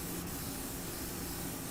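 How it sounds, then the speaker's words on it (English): An airbrush sprays chameleon paint onto lips in a continuous, even hiss, close and soft, holding steady without pauses or voices. "now all I have to do is just push it down, and then it's gonna come out like the spray"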